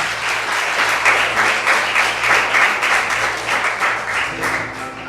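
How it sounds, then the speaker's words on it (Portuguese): A church congregation claps loudly together in praise, a dense roar of many hands with a slight pulsing rhythm, sustained and close, fading a little at the end while a low musical tone lingers underneath. "Dê um aplauso ao Senhor bem forte."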